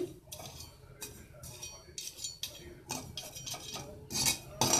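Chickpeas roasting in hot sand in a pan, stirred in repeated gritty, rustling strokes with light metallic clinks, each sweep a short hissing burst at a fairly low level.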